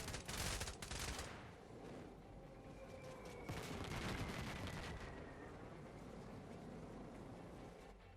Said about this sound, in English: Carpet bomb this area.